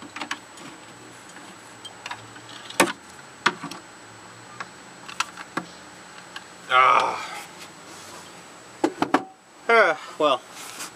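A spray foam can sputters as it runs dry while filling a custom vivarium background, giving scattered ticks and clicks and a couple of short hissing, spitting bursts near the end, fairly close and without talk.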